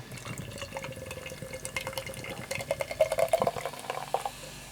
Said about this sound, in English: Let's get a little bit poured out and see what is going on with it.